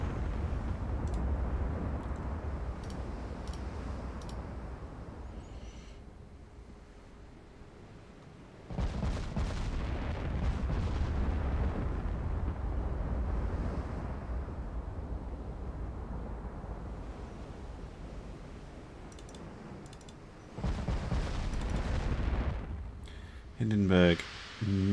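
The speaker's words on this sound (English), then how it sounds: "I have one firing HE and one firing AP, so we hit them with both." Heavy naval guns boom in a Japanese-campaign warship video game, firing HE and AP shells against a destroyer in long rumbling salvos separated by quieter gaps, with a sharp burst of impacts near the end and someone talking over it.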